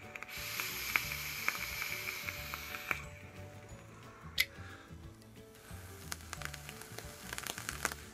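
A Castigator vape mod fires its coil, giving a bright hissing sizzle for about three seconds that then falls away. Small clicks and crackles follow, with brief renewed bursts, all close and fairly quiet.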